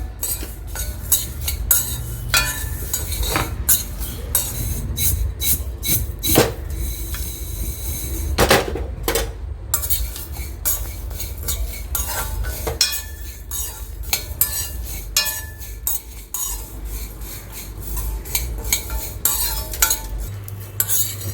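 Spices dry-roasting in a kadai over a low flame for a chicken pickle powder, stirred steadily: close, repeated scraping and metallic clinks run throughout with a low, even background hum and no talking.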